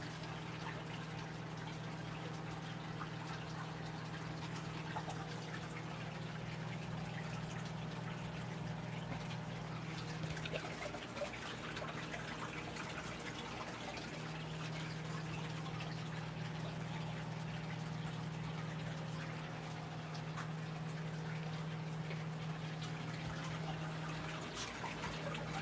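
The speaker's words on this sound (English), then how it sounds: "The water I'm pumping out, y'all, is going out to my" An aquarium pump drains tank water with a steady, quiet low hum and a soft wash of flowing water, unbroken throughout, with no voices.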